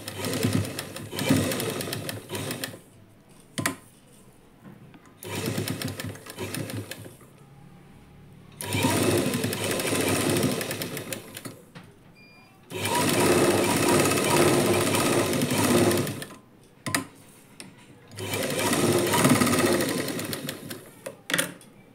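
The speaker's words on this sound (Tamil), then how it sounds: "எப்படி தையல் போடுறேன்னு பாருங்கள்" A sewing machine stitches the hook strip of a lined blouse, running in five loud, steady bursts of rapid needle chatter separated by short pauses.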